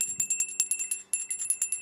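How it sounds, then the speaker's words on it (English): A small hand bell rings in quick, steady repeated strikes, bright and close, with a brief pause midway, in a quiet indoor room during a tarot livestream. "I got a bell."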